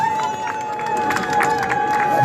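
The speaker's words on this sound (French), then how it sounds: "Alors, applaudissez pour le général Banat" Crowd at an outdoor resistance march in Brussels applauding and cheering together, a steady dense wash of clapping and voices held at an even level throughout.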